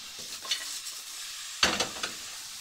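Food fries in a pan aboard a narrowboat, a soft steady sizzle broken by a few scraping stirs and louder bursts near the end.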